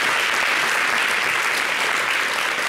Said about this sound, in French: vous n'avez qu'à applaudir pour lui.